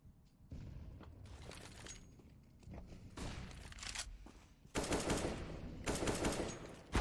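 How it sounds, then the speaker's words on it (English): Bursts of gunfire from Counter-Strike: Global Offensive during an ESEA Advanced grand final match, rapid automatic volleys and single shots coming in clusters, loudest toward the end, with footsteps and game ambience between them. "Shots trying to go through."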